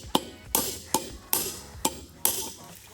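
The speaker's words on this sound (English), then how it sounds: "Toss on this wood block and then hammer these things out." Repeated hammer blows drive bearing races out of a Toyota Land Cruiser 80 differential resting on a wood block, with six sharp metallic strikes at a steady, slightly uneven pace, close and loud with ringing decay between hits.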